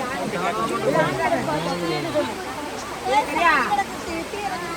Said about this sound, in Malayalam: കുറ്റാലം വാട്ടർഫോൾസ് കുറ്റാലം വെള്ളച്ചാട്ടത്തിൻ്റെ മുമ്പിലാണ് എത്തിയിരിക്കുന്നത്